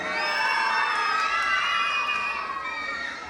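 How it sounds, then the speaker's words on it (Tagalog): A pageant crowd cheers and shouts loudly, many high voices blending into a sustained roar that fades slightly at the end. "Wala man lang bang hiyawan dyan?"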